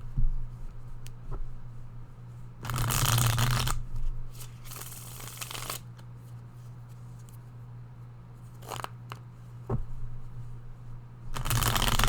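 Tarot cards are shuffled in several separate riffling bursts, close and crisp, with quiet pauses between them in a calm room.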